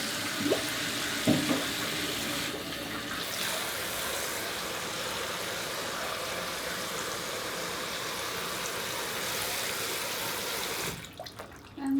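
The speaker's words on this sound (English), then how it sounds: "I'm going to wash it all out individually, put them in the sink" Steady running water fills a sink while dyed fabric is rinsed out after natural dyeing with alum mordant, a continuous close hiss with a few brief knocks and splashes near the start and a change near the end.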